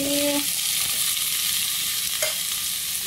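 Vegetables saute in a hot pan with a steady, fairly loud sizzling hiss throughout, a brief clink near the start and a short tap later, no talking.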